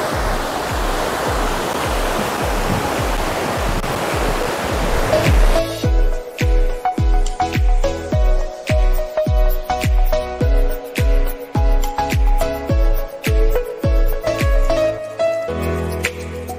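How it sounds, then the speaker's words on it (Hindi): The Bhagirathi river at the Devprayag confluence roars as a loud, dense rush of water for several seconds, then gives way to a rhythmic, pulsing sound that repeats to the end. "शोर नदी का इतना ज्यादा तेज है ना"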